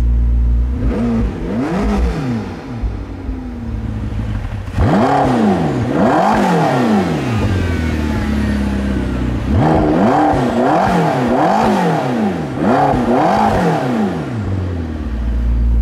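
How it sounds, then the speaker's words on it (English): A McLaren 650S or Ferrari 458 engine is blipped repeatedly, revs sweeping up and falling back in sharp bursts, loud and close, with idling between the bursts. "Let's just have a quick little blip."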